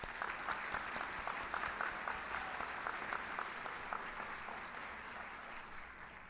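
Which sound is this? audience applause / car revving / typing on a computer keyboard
audience applause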